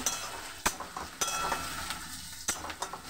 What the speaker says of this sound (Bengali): মাংসটা দিয়ে দেবো, লাল করে ভাজছি।